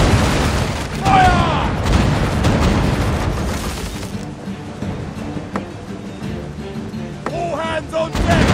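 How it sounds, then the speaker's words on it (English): Booming blasts and bursts of cannon fire in a pirate ship video game, several heavy impacts over a dense, continuous battle din with voices shouting throughout. "All hands on deck! We're under gunfire!"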